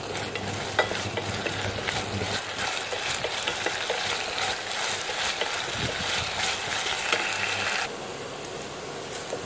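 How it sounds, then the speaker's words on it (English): Snake gourd sautéing in a pot as its liquid cooks off, a steady crackling sizzle with scattered spoon scrapes and clicks, close and constant, easing slightly near the end. "Saute till all the liquid evaporates."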